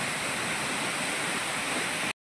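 Indrani Falls in Nepal during the rainy season roars with a steady, dense rush of falling water and river flow, loud and unbroken until it cuts off abruptly.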